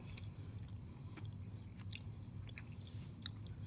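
Crunchy Taylor Chip cookies being chewed close up, soft irregular crunches and moist bites at a quiet level, with no talking.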